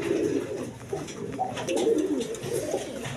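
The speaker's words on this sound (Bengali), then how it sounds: "রাসগোল্লা কবুতর আছে" A tiger-coloured pair of Rasgolla pigeons coo softly and close by, with low, throaty calls repeating in a continuous murmur.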